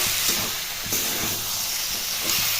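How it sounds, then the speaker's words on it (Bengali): Boiled potatoes being sautéed with spices in a dry pan for chop filling give a soft hissing sizzle, with a few dull knocks and scrapes from stirring, close and steady. "আলুটা দেওয়ার পর ভালো করে কষিয়ে নিতে হবে"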